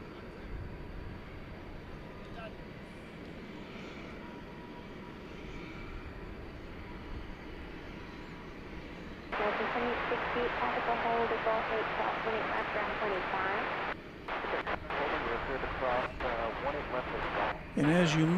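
A fuel-laden cargo jet bound for Istanbul readies for takeoff at DFW Airport at night, its engine rumble starting distant and quiet, then swelling into a louder, fuller roar partway through, with voices talking over it.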